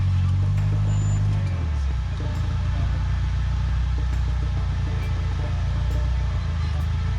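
A competition rock crawler with cutting brakes and front and rear disconnects grinds slowly along at the 2019 WE Rock Grand Nationals, its engine a steady low drone with a deeper shift early on.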